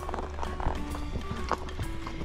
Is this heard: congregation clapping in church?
no